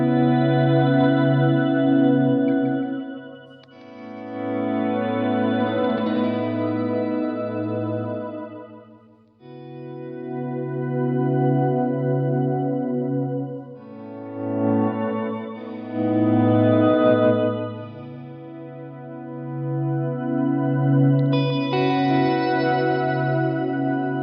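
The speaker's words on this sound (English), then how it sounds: "a shimmer effect is basically what you get when you have like octave up effects in the reverb trails" Sustained electric guitar chords through an Electro-Harmonix Canyon delay pedal's shimmer effect ring out in long swells, each bloomed with a shimmering, octave-up reverb wash that lingers and overlaps into the next.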